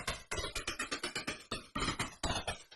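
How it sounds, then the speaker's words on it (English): A white noise sample chopped by a trance gate pulses in a fast, steady rhythmic stutter of bright noise bursts, each quickly swelling and cut off, with brief gaps between phrases and no voices. "the first one is basically the sample with a trance gate"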